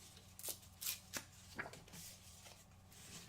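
Quiet, crisp snips of scissors cutting a small paper tab for a pocket card on a December journal page, a handful of short cuts spaced apart with no talking.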